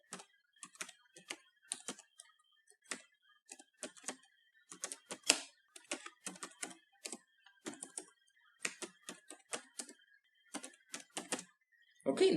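Typing on a computer keyboard produces a quick, irregular run of soft close key clicks continuing throughout, quiet and alone with no talk.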